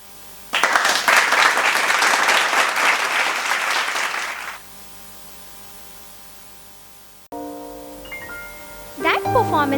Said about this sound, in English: That performance deserves the thundering applause.